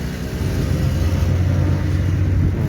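A manual car driving in fourth gear during a driving lesson, a steady low engine hum and road rumble heard from inside the cabin, even and continuous.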